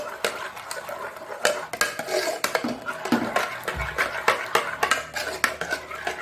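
Pressure-cooked tur dal for temple-style Mangalore saaru being mashed in a pot: irregular scraping, rubbing and soft knocks of a utensil against the vessel, close and moderately loud, with no talking.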